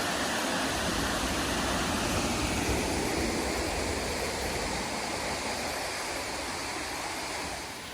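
A loud, constant roar of Virgin Falls in Virgin Falls State Natural Area, dense rushing water filling the whole stretch and easing slightly at the end, with no talking.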